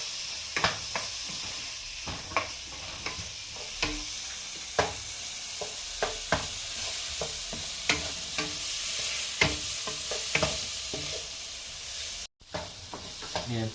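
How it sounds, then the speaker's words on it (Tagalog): Tomatoes sauté in a pan for a butter shrimp and pumpkin dish, with a steady soft sizzle and repeated sharp scrapes and taps of a spoon stirring at irregular intervals. "Sutay natin, igisa natin."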